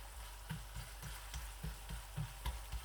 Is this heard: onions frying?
yes